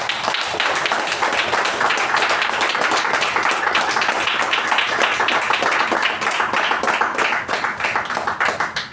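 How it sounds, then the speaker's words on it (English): A roomful of people gives sustained, loud applause at a Toastmasters club officer installation ceremony, dense steady clapping that holds without a break, with no talk over it. "Let's please give them a huge round of applause."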